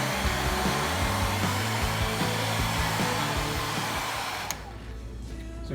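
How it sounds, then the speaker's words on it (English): A hair blow dryer blasts a steady, loud whooshing drone close by as it warms a carbon-design vinyl protective sheet on a Traxxas Rustler RC car chassis, cutting out sharply near the end to leave quiet room noise. "I hit it with the blow dryer"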